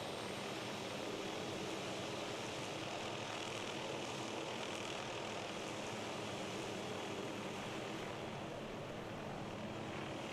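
A Hughes 530F helicopter in Microsoft Flight Simulator, heard from outside: a steady, even rotor and engine roar holds at constant loudness throughout, with no voices.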